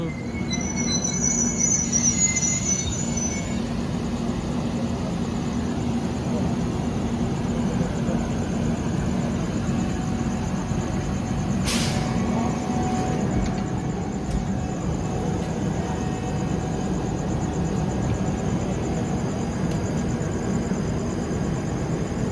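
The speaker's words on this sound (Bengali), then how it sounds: "ট্রেন পৌঁছেছে এখন বালাসোর।" A passenger express train on Indian Railways brakes into Balasore station, its wheels giving off a thin, high squeal over a continuous rolling rumble, with a sharp metallic screech near the middle and no talk.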